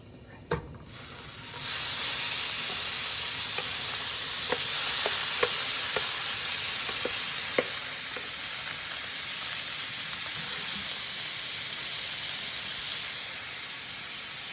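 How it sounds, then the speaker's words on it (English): Bacon frying in a pan: after a brief clatter as it drops in, a loud, continuous hissing sizzle swells up and holds steady, with a few faint scrapes and pops, close and alone. "it's time to scoop the bacon into the pan and fry it"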